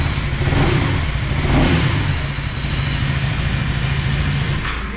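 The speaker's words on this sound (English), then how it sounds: "let me rev it for you so that you can see the instrument cluster as well" A 2024 KTM Duke 390 motorcycle engine revs up, swelling to a peak around the first couple of seconds and then holding a steady, throaty mid-pitched drone close by.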